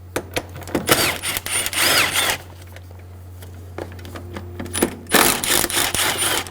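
Two 8mm air box bolts come out of a 2000-2007 Ford Focus engine bay, with bursts of ratcheting and spinning from a power tool, loud and close, separated by short pauses and faint clatter.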